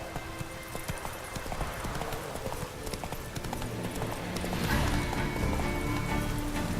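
Horse galloping through rain in The Witcher 3 video game, with rhythmic hoof clip-clops over a steady wash of rainfall, building slightly louder toward the end.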